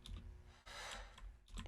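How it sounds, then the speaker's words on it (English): Breath sample of someone inhaling, a short breathy rush swelling in the middle between quieter clicky textures. "So it's someone inhaling."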